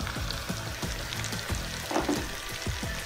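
Fenugreek seeds and black pepper powder frying in a pan for Pakistani Potohar daal mash, a steady close sizzle with repeated stirring strokes scraping through it, no voices.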